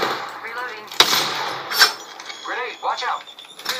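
Video game gunfire from Apex Legends played on a budget PC: a sharp, loud shot followed by another burst, with someone talking between and around the shots.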